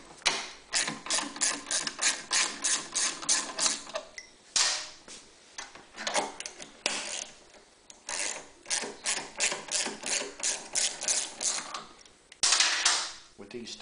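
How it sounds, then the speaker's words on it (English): A hand ratchet unscrews the bottom studs on a Honda EU3000iS generator, giving rapid close clicking in repeated bursts separated by short pauses. "What you can do that makes your life easier is simply unscrew these bottom studs"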